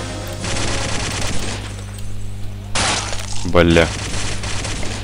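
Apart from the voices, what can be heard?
machine gun fire in Day of Defeat video game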